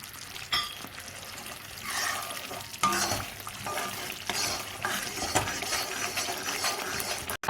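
Thick omam kali being stirred with sesame oil in a pan, steady close scraping and slapping of the spoon through the dense mixture over a low sizzle, with irregular knocks against the pan.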